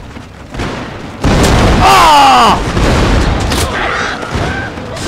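A loud musket volley from massed gunners in Total War: Shogun 2 breaks out as a sudden crackling burst of many overlapping shots, followed by a rolling boom and echoing rumble, with a shouted voice over it.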